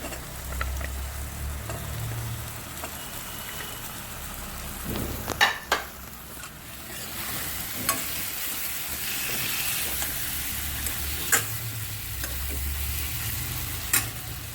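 Boiled potatoes frying with tomatoes in a pan, a steady sizzle under repeated stirring, with several sharp spoon knocks against the pan scattered through.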